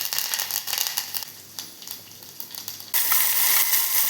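Curry leaves hit hot oil with mustard seeds while making dosa, crackling and sizzling steadily, then flaring into a louder, denser spatter near the end, close and alone without talk.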